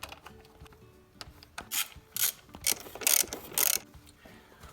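A ratchet snugs up bolts on the valve cover of a 2.0T Audi A4 B7, giving several short bursts of rapid, close clicking with brief pauses and light tool knocks between them.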